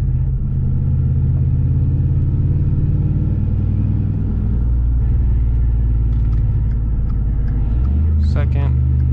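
Car engine rumbling steadily in second gear after a transmission install, a loud close low drone with a shift in pitch partway through, and a brief higher whine near the end.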